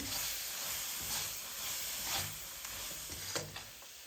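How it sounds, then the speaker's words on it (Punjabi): Beetroot halwa with chopped almonds and raisins hisses and sizzles gently in a pan while being stirred, with soft scraping strokes and a few light taps near the end, close and fairly quiet, no talking. "ਥੋੜੇ ਜਿਹੇ ਬਰੀਕ ਕਟੇ ਹੋਏ ਬਦਾਮ ਤੇ ਦਾਖਾਂ ਪਾ ਦੇਵਾਂਗੇ ਨੂੰ ਚੰਗੀ ਤਰ੍ਹਾਂ ਮਿਕਸ ਕਰਕੇ ਆਪਾਂ 1-2 ਮਿੰਟ ਲਈ ਪਕਾ ਲਵਾਂਗੇ"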